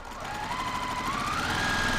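A sewing machine runs continuously while stitching a 1/4 inch quilt backing seam, a close, steady mechanical whir with a rapid rhythmic chatter whose pitch rises slightly as it speeds up.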